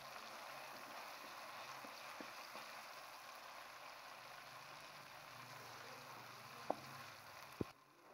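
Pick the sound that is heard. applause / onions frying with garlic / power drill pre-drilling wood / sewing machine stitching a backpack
onions frying with garlic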